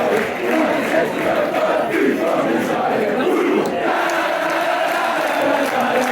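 Football crowd cheering and roaring steadily in a stadium after a goal, a dense sustained wall of voices throughout, loud and continuous with no single voice standing out.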